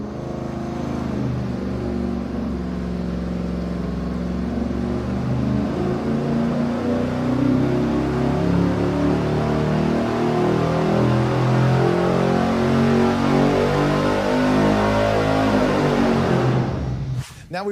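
A V8 engine running on a dyno on seven cylinders with one spark plug wire pulled, holding a loud, steady, rough drone throughout before cutting off abruptly at the end.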